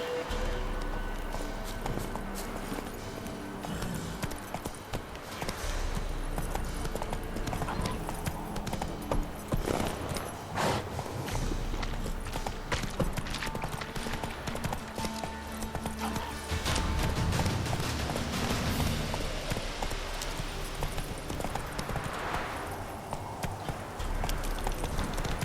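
Horse hooves clip-clop steadily and fairly close for the whole stretch, an even walking rhythm with occasional snorts and faint background noise.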